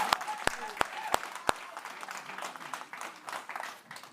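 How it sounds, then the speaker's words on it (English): Audience applause at a university campus cultural event, steady dense clapping from a crowd with a few sharp louder claps near the start, carrying on evenly to the end. "Please give them another round of applause."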